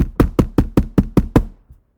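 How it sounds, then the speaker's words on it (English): Seven sharp knocks on a shut door in an even, brisk rhythm, loud and close, followed by a faint final tap and silence, with no talking. "You're going to be knocking on the door."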